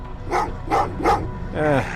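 Dogs in the video game Terminator Resistance let out a short run of yips and barks, four quick bursts over two seconds, with a whimpering final call, set against quiet game ambience.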